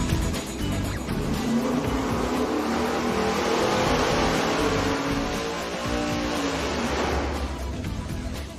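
A 1,000 HP engine breathing through a Hooker maximum flow muffler, a loud continuous exhaust roar that builds, holds near its peak through the middle, and eases slightly toward the end.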